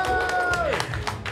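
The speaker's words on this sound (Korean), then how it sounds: "그렇게 하라고 박수 한번 쳐줘" An audience at the Busan Cheolma Hanwoo charcoal barbecue festival gives a brief burst of clapping, close and scattered, under an amplified voice.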